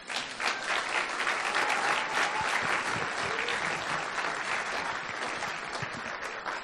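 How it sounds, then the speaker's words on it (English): Wedding guests at Lydia and Matt's reception applaud during the toasts, a steady, dense round of clapping that holds full and even for the whole stretch with no talking over it. "Let's give them a round of applause."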